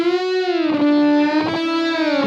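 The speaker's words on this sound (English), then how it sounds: "Let's go up to 75 milliseconds." An electric guitar plays sustained, slightly distorted notes through a Haas-effect delay set to 75 milliseconds, so the sound spreads wide, with a brief echo trailing each note change.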